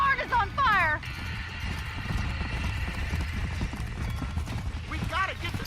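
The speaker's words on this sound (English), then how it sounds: "My horse just went woo, like horses do" Horse in the Red Dead Redemption video game neighing loudly near the start and again near the end, with rapid hoofbeats clip-clopping steadily through the middle and someone talking over it.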